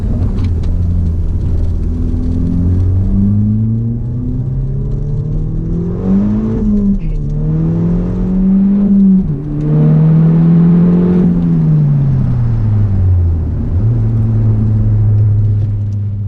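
MK6 VW GTI fitted with a Clutch Masters FX350 clutch, heard from inside with traction control off, accelerating hard through the gears: loud engine revs climbing, dropping at each shift, then climbing again, no talk.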